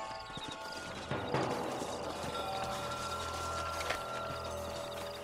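Horse hooves clip-clop steadily in a Red Dead Redemption video game over a busy, noisy outdoor background, with a few louder knocks and clanks mixed in.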